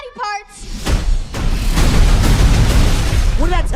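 A loud booming explosion from the Borderlands film erupts after a short voice, followed by a sustained roaring rumble and crackle; another voice cuts in at the end.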